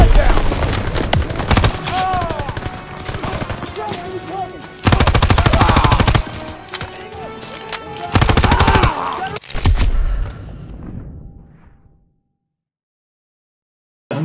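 Loud gunfire fills a Call of Duty WW2 campaign battle: long bursts of machine-gun fire alternate with scattered rifle shots and shouted voices, then the sound stops abruptly into silence near the end.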